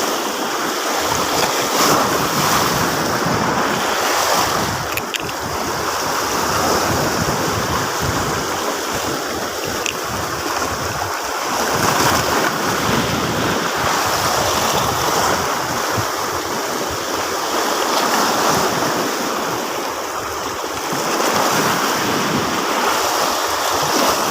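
Strong ocean waves pound Sual Bagbag beach in a constant loud roar of surf, with wind buffeting the microphone throughout and no break in the wash.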